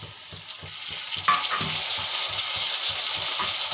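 Tomatoes tossed onto golden fried onions in a pan for pudhina chicken gravy: a thump as they land, then a strong close sizzle with regular stirring scrapes keeping a steady rhythm.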